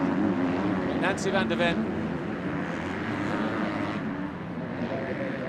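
A 125cc two-stroke Yamaha motocross bike races at the MXGP of Qatar women's race, a continuous droning engine roar filling the scene while a commentator talks over it.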